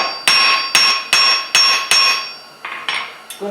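A hammer strikes a folded steel leaf on an anvil to forge and flatten it, ringing metallic blows in a steady rhythm of about eight hits, close and loud, a few lighter taps near the end.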